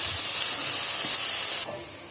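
Vegetables and green peas sauté in a pan for vegetable pulao, a loud steady hiss that drops abruptly to a softer sizzle near the end.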